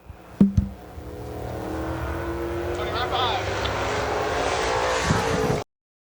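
Super late model race cars roar around a dirt speedway, a sustained loud engine drone building after a sharp bang near the start, with a public-address announcer talking over the noise.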